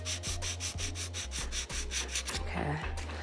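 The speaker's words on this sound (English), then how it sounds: "we're gonna start with a 150 or 100, a more abrasive file, and that'll take away the acrylic much faster" A coarse 100/150 grit file rasps over an acrylic nail in steady, rapid back-and-forth strokes, close and continuous, with no talk.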